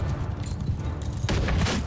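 Hand cannon gunfire in the medieval battle game Mount & Blade II: Bannerlord, booming volleys over a dense battlefield din, with a sharp louder blast about two-thirds through, close and loud.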